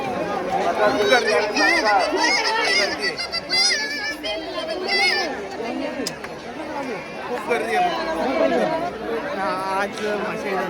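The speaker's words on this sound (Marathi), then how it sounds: "आज मासे जत्रा आहे आणि खूप गर्दी आहे" Dense chatter and overlapping voices fill a crowded village fair in Thane district, a busy close-range hubbub of many people talking at once without pause.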